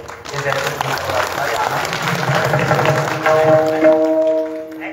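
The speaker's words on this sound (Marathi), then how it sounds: "टाळ्या वाजवल्या तुम्ही, टाळ्या वाजवल्या तुम्ही" A large crowd applauding during a devotional kirtan, a dense, loud wash of clapping that holds steady for several seconds while voices and sustained musical tones rise toward the end.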